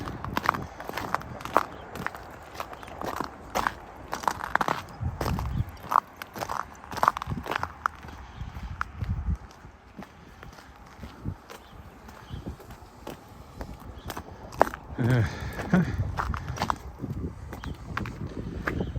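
Boots crunch over icy patches on a cold February walk around a lake in Regina. Steps are close and uneven, sometimes quick and short, with sharp crackles and scrapes and no talking.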